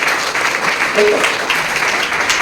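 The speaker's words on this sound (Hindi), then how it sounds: "एक बार तालियां बजाएंगे" Audience applause at an indoor business meeting or seminar in India: a steady, dense wash of clapping from a hall full of people, heard briefly without pauses.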